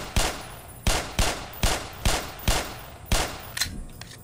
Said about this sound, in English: That is a turret.